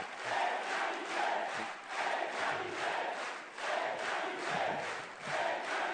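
Deputies in the French parliament chamber after a vote, a dense roar of crowd cheering and shouting with applause, rising and falling in waves, loud and continuous.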